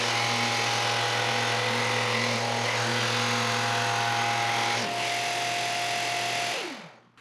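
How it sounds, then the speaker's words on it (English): A lacquered wood vase spins on a lathe while being sanded to 5000 grit, a steady motor hum with a continuous hiss that winds down and stops at the end. "now I'm going to sand it to probably 5000 grit"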